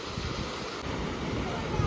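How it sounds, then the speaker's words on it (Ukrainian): Wind roars across the microphone while strong sea waves surge steadily underneath in a small bay on Crete, a loud continuous outdoor rush. "вже хвилі такі сильні, тут вже така бухта менша. Через то вітер сильніший."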